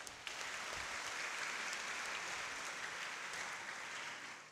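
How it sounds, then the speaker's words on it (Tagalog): At a Mass for the Solemnity of Christ the King, a congregation claps in a soft, distant wash of applause that holds steadily and tapers off at the end. "Bigyan natin mahal na Panginoon isa pa malakas na palakpak."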